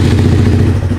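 A motorcycle engine running as it warms up, a loud, close, steady chugging rumble with some rattling clatter, heard alone in a brief burst.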